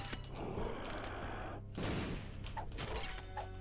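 A burst of loud, crackling explosions and rapid gunfire-like blasts in The Binding of Isaac: Repentance, dense and noisy, with a short rumbling boom in the middle.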